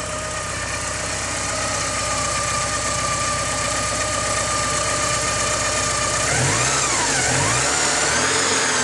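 A 1985 Porsche 944 engine, warmed up and running a little rich, idles steadily up close, then takes a couple of quick throttle blips that rise and fall near the end.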